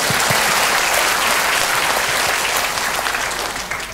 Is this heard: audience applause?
yes